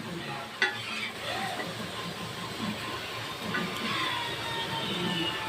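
Elephant foot yam slices frying on a dosa pan make a soft, continuous sizzle with occasional light stirring clinks, quiet and steady without talk.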